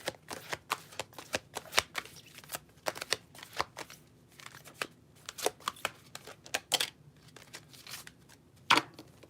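Tarot cards being shuffled at close range, a rapid series of crisp riffling bursts and soft slaps that come in uneven clusters throughout, with no voices.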